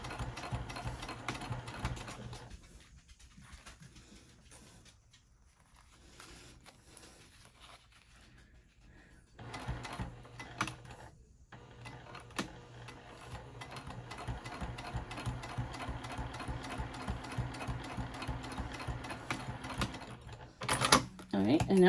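Sewing machine top stitching along a seam on a patchwork bag, fast rhythmic needle chatter running in stretches with brief pauses, a person talking over it.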